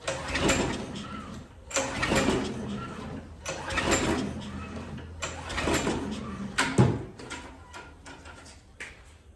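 A Craftsman weedeater being serviced is pull-started again and again in a steady rhythm, its small engine sputtering and turning over loudly and close by without settling into an idle.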